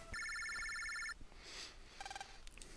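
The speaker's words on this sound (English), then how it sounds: "Lan, looks like a phone call for you." A cell phone ringtone trills with bright repeated electronic beeps in the Mega Man Battle Network 2 game, followed by a short chime of game sound effects, clear and alone.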